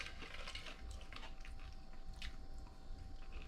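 Crunchy fried crappie being bitten and chewed close to the microphone, quiet irregular crunches over a faint background hum.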